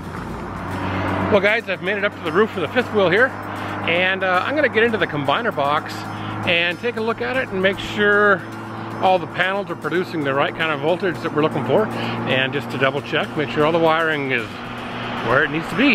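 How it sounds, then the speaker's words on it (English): Steady road traffic noise from a nearby highway, a constant low rumble of passing cars and trucks running underneath someone talking throughout. "Sorry for the road noise."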